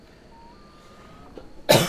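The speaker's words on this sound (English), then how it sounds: "Excuse me, man. I got a cough now." A single sharp cough bursts out near the end after a quiet stretch, close and loud.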